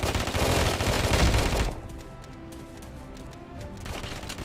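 Rapid automatic gunfire from the mobile shooter game Afterpulse, a dense loud burst for the first couple of seconds, then dropping to quieter background game noise with faint scattered shots.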